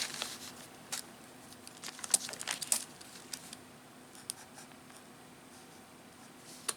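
Pen or marker scratching out a chemical structure by hand during a chemistry lecture on vitamin K synthesis, a run of soft irregular strokes and taps, fairly close, with no talking.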